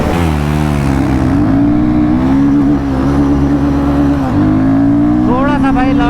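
Pulsar NS400Z and Guerrilla 450 motorcycles launch hard in a performance test, one with a sport quickshifter, their engines revving loud and close with rising pitch sweeps and a brief drop at a shift, joined by another engine near the end.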